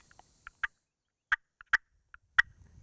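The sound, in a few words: turkey hen clucking imitated with hunter's call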